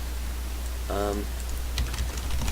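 A computer keyboard clicks in a short, sparse burst of keystrokes under a steady low hum, with a voice speaking briefly nearby.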